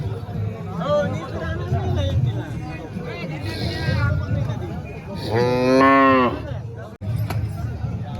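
A bull moos loudly and close, one drawn-out call amid the chatter and crowd babble of the Mhasa cattle fair bull market in Murbad, Thane district.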